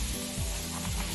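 Chickpeas crisping in a pan sizzle loudly and continuously, a dense close-up frying hiss with faint stirring movement and no voices.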